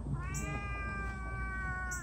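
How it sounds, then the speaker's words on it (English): A cat meows near a ghost town site at a river state park: a single sustained, nasal meow held steadily for about two seconds, close and clear over faint outdoor background. "Kitty cat. Hey, kitty."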